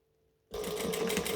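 After a moment of near silence, a sewing machine starts up and runs steadily, stitching a seam close to the edge at a longer stitch length, its motor whirring close and even.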